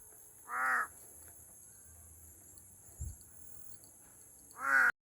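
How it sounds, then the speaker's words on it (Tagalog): Two loud, harsh caws from a crow ring out near the start and end, separated by quiet with a faint thump and distant insect buzz. "Yan na naman ang uwak."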